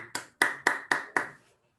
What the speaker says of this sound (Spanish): Un aplauso de nuevo para ti